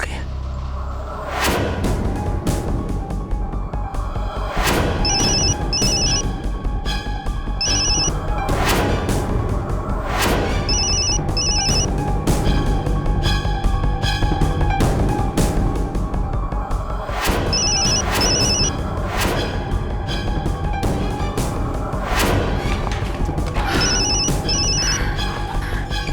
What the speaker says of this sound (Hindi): इतनी देर से फोन लगा रहा हूँ